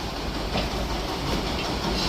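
A local commuter train runs along at speed, heard from inside as a loud, constant rumble with rattling wheels and a faint clickety-clack, and no voices.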